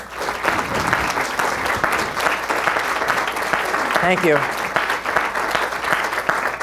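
Lecture audience breaking into loud, dense applause that fills the hall throughout, with a brief spoken thanks from the stage cutting through the clapping midway.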